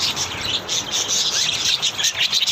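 Pet birds chirping on a cool, windy morning in Los Angeles, a steady, faint chorus of high tweets running continuously without talk.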